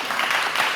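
Audience at a hardware startup incubator demo day in Sydney, applauding as a dense, even wash of clapping that lasts under a second.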